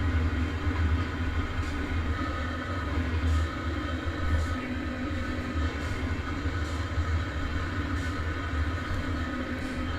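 Train running in the railway simulator Train Sim World 2, a steady loud rumble of wheels and engine with rhythmic faint clicks over the rails, continuous throughout and nothing else on top.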